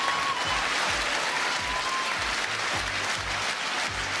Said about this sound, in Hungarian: Nagy tapsot kérek.